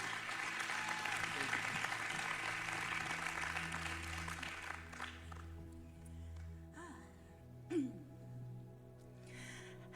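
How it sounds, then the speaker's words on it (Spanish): A church celebration audience gives warm applause to welcome a speaker; the clapping fills the first half, then fades into quiet room tone with a voice and faint tones. "Vamos a recibirla con otro caluroso aplauso"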